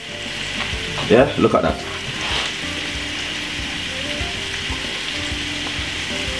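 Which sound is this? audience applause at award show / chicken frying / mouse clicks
chicken frying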